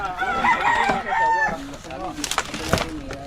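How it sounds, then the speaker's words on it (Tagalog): A rooster crows loudly nearby, with chickens clucking around it and a person speaking briefly over the farmyard noise. "Ito po yung mga alaga nilang manok."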